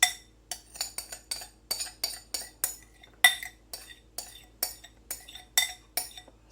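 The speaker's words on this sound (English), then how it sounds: "I'm going to take that corn and I'm going to stir it into my leftover taco meat" A spoon clinks steadily against a bowl or pan while stirring corn into leftover taco meat, about two scrapes and taps per second, close and clear, with no talking.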